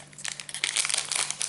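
A Japanese Pokémon booster pack wrapper crinkles and tears open, a brief loud close-up crackle of foil plastic with no voices.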